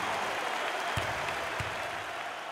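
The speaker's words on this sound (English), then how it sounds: "Oh, and look at the crowd and look at the reaction. I think the home fans are going crazy." Home fans at a Houston college basketball game against Texas State roar and applaud in a dense, steady wall of crowd noise, with a couple of sharp thumps rising out of it and no clear talking.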